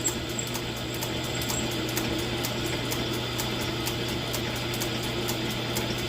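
A small 9-inch South Bend lathe drives a drill bit into a jet boat helm shaft, giving a steady continuous mechanical whir with a constant low motor hum and faint rhythmic ticking.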